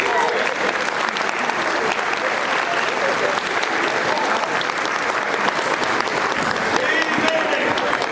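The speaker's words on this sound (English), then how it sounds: "Round of applause for that one." School assembly audience claps through a Charles Dickens performance, sustained dense applause from a large crowd, with voices faintly mixed in.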